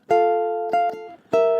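Plucked ukulele notes ring out in a short fingerstyle pattern, a few bright attacks each sustaining and fading, played close with no voice.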